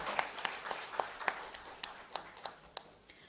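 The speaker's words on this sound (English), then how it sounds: "Can we have a big round of applause for our speaker?" Sparse applause from a seminar audience honouring the speaker, a handful of separate claps spaced out over a few seconds, fairly faint and thin with no voices over them.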